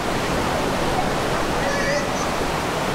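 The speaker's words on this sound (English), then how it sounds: "Strong waves over here, insane." Strong ocean waves roll in at Uluwatu Beach, Bali, a dense continuous roar of surf and wash filling the scene at close range, with a faint voice mixed in.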